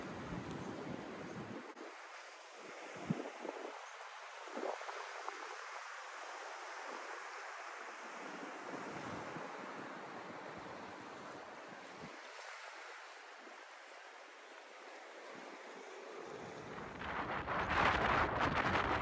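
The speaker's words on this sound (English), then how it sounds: "It was incredibly windy at this location, as you can probably tell." Strong coastal wind buffets and roars in gusts against a background of crashing surf, rising louder near the end with heavy rumbling.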